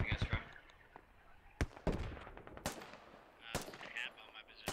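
Sharp gunshots crack out in a squad-based shooter game, with several loud isolated reports spaced irregularly across a few seconds amid faint game ambience, as from enemy snipers firing.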